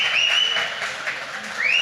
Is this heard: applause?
yes